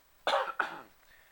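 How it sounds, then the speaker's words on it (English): Two quick, harsh coughs from a person with a bad cough in close succession, near and fairly loud, followed by a faint breathy tail. "I've got a really horrible cough"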